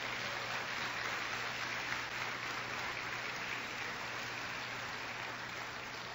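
Quiet, dense applause from a church congregation, recorded at a distance and carried over a steady low electrical hum, with no talking heard.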